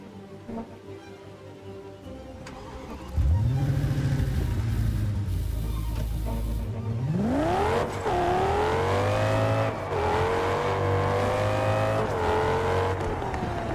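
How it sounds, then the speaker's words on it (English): Lamborghini Huracan V10 engine in the racing game TDU Solar Crown, revving loudly and climbing through repeated gear-change sweeps, with a steady close engine tone and no talk. "There are so many people saying that this doesn't sound like a Huracan V10 anymore."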